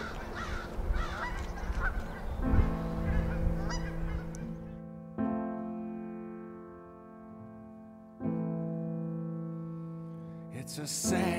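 Geese in Fort Collins giving loud, nasal honks, several birds calling over one another, then single drawn-out honks ringing out separately nearby.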